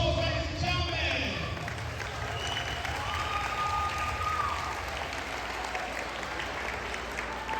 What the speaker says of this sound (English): give yourselves a big round of applause, ladies and gentlemen